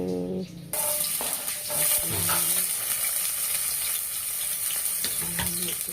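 Menudo frying in a pan: a bright, even sizzle fills the background while a utensil clatters and scrapes in a few short knocks, close and fairly loud, after a brief quieter start.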